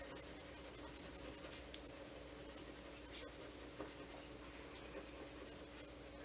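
A Derwent watercolour pencil scratches and rubs steadily across paper, a soft continuous scribbling texture with brief faint taps, close and quiet with no talking.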